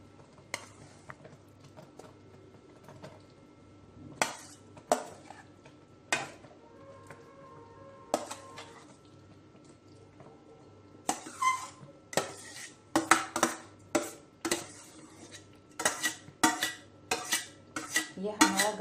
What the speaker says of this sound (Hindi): ये हमने गाजर का हलवा जो चाशनी में हमने बनाया है उसे इसमें मिक्स कर दे रहे हैं